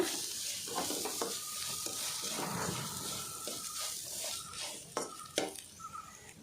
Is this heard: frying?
yes